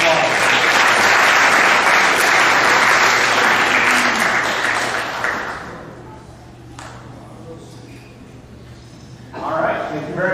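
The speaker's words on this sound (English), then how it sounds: "So give them another round of applause." Loud, full applause from an audience at a high school spring sports awards program, sustained for about five seconds before thinning out, with a voice briefly audible near the end.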